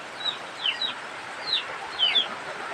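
Texas hens being moved to a small cage give short, high, downward-sliding calls, scattered singly and in pairs at moderate loudness over a quiet background.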